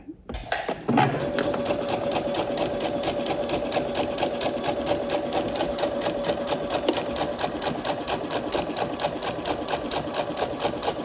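A sewing machine starts up and runs at a steady, moderate pace, its rapid mechanical clatter and whirring hum continuing evenly and close by.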